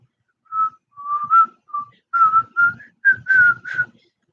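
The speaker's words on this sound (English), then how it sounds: "I can't whistle the theme that well." A person whistles a theme tune alone, a clear melodic run of about ten short and sustained notes with small pauses between phrases.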